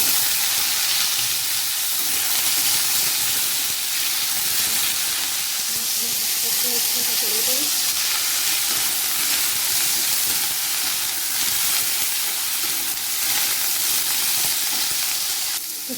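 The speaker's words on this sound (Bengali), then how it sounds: "সবজিগুলো ভালো ভাজা হয়ে গেছে।" Vegetables fry in a home kitchen pan with a steady, broad sizzle and hiss that stays even and close for the whole stretch, with faint background sounds beneath it.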